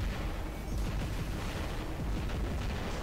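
Robot weapons fire continuously in War Robots on a castle map, a dense rumbling barrage of booms and blasts that stays loud and steady throughout with no clear gaps.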